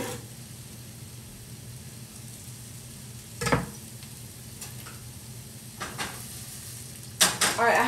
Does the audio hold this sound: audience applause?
no